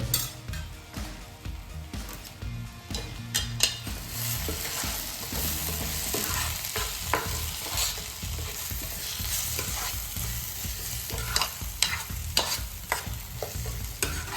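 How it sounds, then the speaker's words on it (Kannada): Coriander and cumin powder being stirred into egg gravy in a pan: a spoon scrapes and clinks against the pan in an irregular rhythm while the gravy sizzles softly underneath, close and continuous. "ಇವಾಗ ಎಲ್ಲನೂ ಹಾಕಿ ಮಿಕ್ಸ್ ಮಾಡೋಣ."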